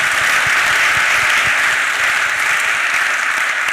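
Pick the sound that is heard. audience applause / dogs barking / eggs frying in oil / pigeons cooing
audience applause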